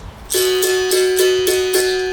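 A capoeira berimbau sounds its closed jin tone, one sustained ringing pitch held throughout while five rhythmic shaker-like hisses pulse over it at a steady pace; no voices.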